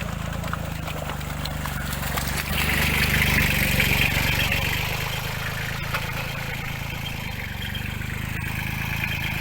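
A small 20-horsepower Kubota L2002 tractor plowing a wet paddy field with a five-disc harrow of 20-inch discs makes a steady, low engine drone that swells slightly midway, heard from a moderate distance.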